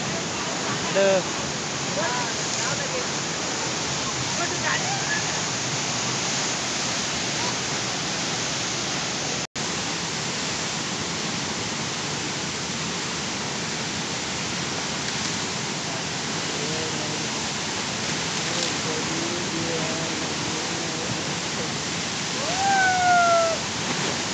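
Randha Falls pours in a dense, constant roar of falling water, even and full throughout, with a faint voice briefly audible under the noise.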